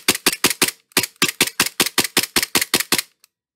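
A G34 gel blaster fired in rapid succession, about fifteen sharp, loud, close snaps in a quick run with a brief pause partway, then a single faint click as the empty magazine locks out.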